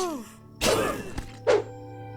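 Melee strikes on enemies in the action RPG Morbid: two heavy thudding whacks about a second apart, each a loud broadband burst with a short tail, over a quiet game backdrop.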